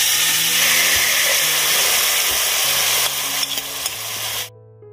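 Tomatoes tipped into a hot pan of oil fry with a loud, steady sizzle and hiss, with faint scraping from a utensil, before the sound cuts off abruptly near the end.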